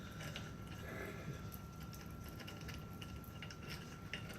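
A wrench ratchets while a Ford 302 engine is torn down, producing faint, rapid, repeated mechanical clicks against a low steady hum.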